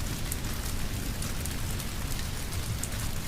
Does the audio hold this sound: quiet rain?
yes